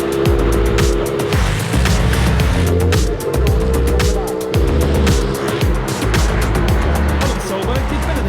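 Race cars at the Race of Champions, held in Sweden in 2022, accelerate hard with loud, continuous engine roar and rising gear pulls, tyres squealing now and then, under excited commentary.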